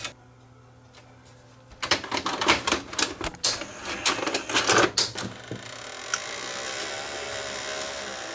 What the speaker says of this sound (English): The one tape that I rewound earlier that was noisy, well, the take-up spool has gone bad.